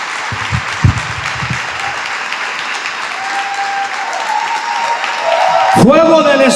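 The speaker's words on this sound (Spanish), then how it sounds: "Démosle un aplauso al Señor." A church congregation claps steadily while a preacher speaks over it, the applause swelling louder near the end as a sustained musical tone joins in.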